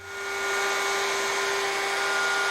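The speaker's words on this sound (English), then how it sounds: "To round over the edges, I'm using a 1/4 inch radius roundover bit in my handheld router." A handheld router fitted with a 1/4 inch radius roundover bit spins up to a steady, loud, high-pitched whine while rounding over wooden edges for a bed frame, heard alone and close.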